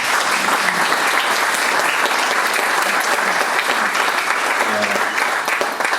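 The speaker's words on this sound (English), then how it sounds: "Big round of applause for Stella." Applause from an audience at a book launch at Home MCR, dense and steady clapping held at full strength for six seconds, close and loud, with a few faint voices mixed into the crowd.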